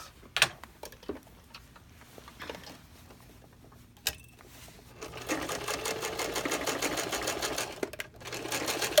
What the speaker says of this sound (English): you're going to take it and sew right down here